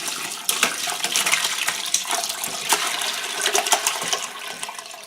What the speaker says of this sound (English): is gonna pour this into a smaller pan for me